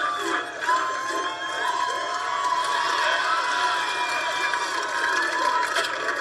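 A crowd cheers and whoops at a salmon ladder obstacle during an athletic competition, a continuous excited roar of many voices with scattered shouts, fairly distant and sustained.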